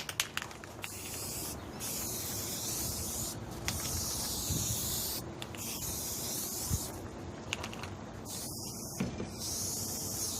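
Rust-Oleum primer sprayed from an aerosol can onto metal bars outdoors, a near, steady hiss coming in several long bursts separated by short breaks.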